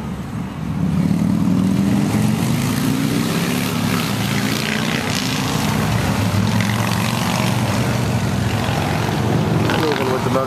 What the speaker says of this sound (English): And even with the motorcycle distraction